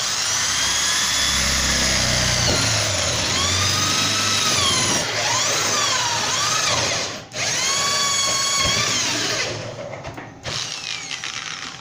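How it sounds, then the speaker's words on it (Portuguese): A power drill bores a hole through a refrigerator wall for wiring in a home draft beer setup, its motor whining and rising and falling in pitch under load, with brief pauses, loud and close. "a primeira coisa que eu vou fazer vai ser fazer um furo aqui, ó, para poder passar a fiação"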